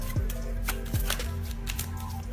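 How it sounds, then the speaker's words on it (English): A deck of playing cards is shuffled by hand during a magic trick, giving several quick riffling bursts and soft flicks close to the microphone, with a faint background hum and no talk. "Gonna mix up the deck."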